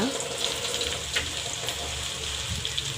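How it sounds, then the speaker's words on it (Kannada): Spices, tomato and coconut fry in hot oil in a pan for egg chicken sambar, giving a constant close sizzle with faint stirring, and no talking. "ತೆಂಗಿನಕಾಯಿನೂ ಕೂಡ ಎಣ್ಣೆಗೆ ಹಾಕ್ಕೊಬಿಡ್ತೀನಿ ಇನ್ನೆಲ್ಲ ಸೇರಿ ಚೆನ್ನಾಗಿ ಫ್ರೈ ಮಾಡ್ಕೋಬೇಕು"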